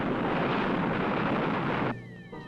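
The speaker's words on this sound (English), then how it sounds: "Fire retro rockets." Spacecraft retro rockets fire in a loud, continuous roaring blast that cuts off sharply near the end, leaving a fainter electronic hum with descending tones, a science-fiction film sound effect.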